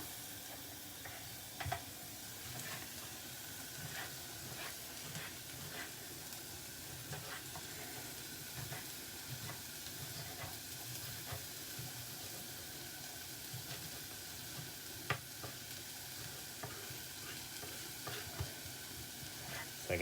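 Vegetables sizzle steadily in a frying pan for a pan-fried sea bream dish, a continuous close hiss with occasional stirring clicks and pops throughout, no talking.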